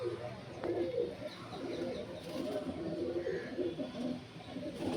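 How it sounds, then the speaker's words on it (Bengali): Kalsira pigeons, a pure Andhra breed, coo in low, soft rounded calls near a loft, with steady background noise and a few faint chirps in between. "প্রত্যেকটা কালসিরা পায়রা"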